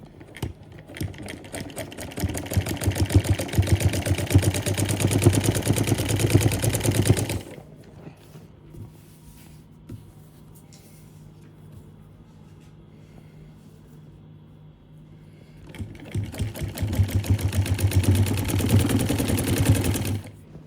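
A sewing machine stitches a designer neckline on a garment, running loud and steady for several seconds, pausing into quiet handling, then running again at the same fast, close whir.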